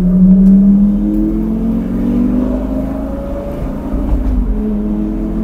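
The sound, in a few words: supercar exhaust roaring while downshifting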